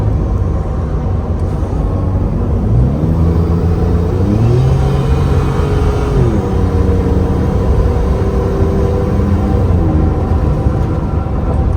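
A lifted Ford F150 pickup with a 3.5 EcoBoost engine accelerating onto an interstate at night in sport mode after a gear drop, engine tone rising in steps through shifts over steady road rumble, no talk.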